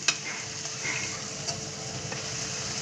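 Green chilies and coriander-cumin spice powder being stirred in a frying pan for guvar shaak, a steady close sizzle with faint scraping taps from the spoon throughout.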